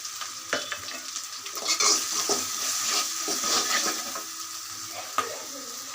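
Onions with turmeric and salt sizzle in a pan while being stirred, with scraping utensil strokes and occasional clinks over a steady hiss. The cooking is close and fairly loud.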